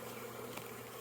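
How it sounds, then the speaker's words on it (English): A large swarm of bees produces a dense, continuous buzzing drone, steady and fairly soft throughout the short moment. "that's a shit ton of bees"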